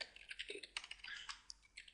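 Text being typed into an Excel spreadsheet on a computer keyboard, a quick irregular run of soft, close key clicks heard on their own at low volume.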